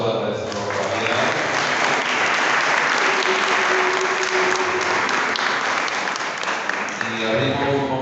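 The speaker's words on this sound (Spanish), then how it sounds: "Le damos un fuerte aplauso a nuestro Javier." Loud, sustained audience applause at a book presentation, a dense wash of clapping from a crowd that holds steady for several seconds before tapering at the end, with voices mixed in.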